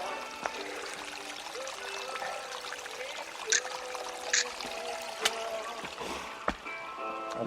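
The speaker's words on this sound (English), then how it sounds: "I'm now padding my way through Whitaker Creek." Water of Whitaker Creek trickles and splashes close by as someone wades through it, with gurgling flow and several sharper splashes from footsteps, no talk.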